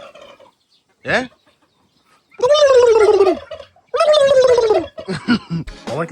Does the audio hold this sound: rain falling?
no